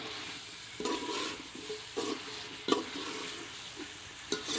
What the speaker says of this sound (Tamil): நல்லா ஒரு கிண்டிக்கோங்க, எல்லாம் மிக்ஸ் ஆகிற மாதிரி.